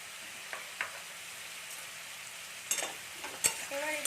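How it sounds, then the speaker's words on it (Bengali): Cumin and turmeric powder fry in a pan for a small-fish chorchori. A soft, quiet sizzle holds steady while a spoon scrapes and clinks now and then, with a couple of sharper knocks near the end and no talk. "এটাকে আমরা একটু ভালো করে কষিয়ে নেব"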